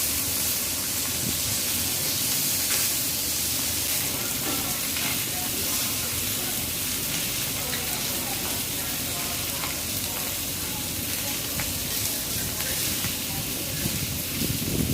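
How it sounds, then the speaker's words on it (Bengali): Rohu fish frying in a small amount of oil in a pan, a steady dense sizzle and crackle running throughout at close range with occasional faint scraping and stirring. "আমি আস্তে আস্তে মাছটা উঠিয়ে নিচ্ছি, কারণ মাছের ভিতরে একবারে তেল কম দিচ্ছি"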